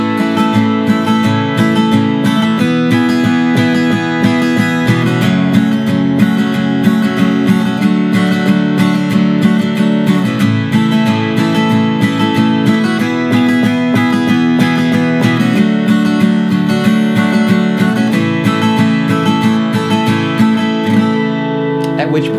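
Chorus of a song played in a music lesson, with steady strummed chords in a regular rhythm, with chord changes every couple of seconds, loud and continuous with no talking.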